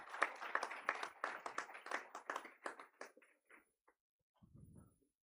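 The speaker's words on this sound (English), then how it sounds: "Claps, please." Audience members at a learners' convocation clap as a team is called on stage: a few seconds of crisp, scattered hand claps that thin out and stop, followed by a short, soft low thud.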